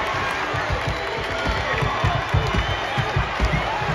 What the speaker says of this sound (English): The crowd is alive and well here tonight.